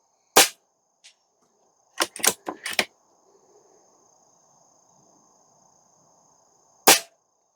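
A Stoeger XM1 Scout airgun fires sharp, isolated cracks: one shot, a faint tick, then a quick cluster of four or five snaps, a long quiet pause and a final shot, all close and without talk.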